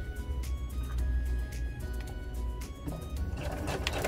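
Domestic sewing machine running a straight row of stitching at about 2.5 stitch length while sewing a zippered pocket, a steady close mechanical whir with a continuous rapid hum throughout.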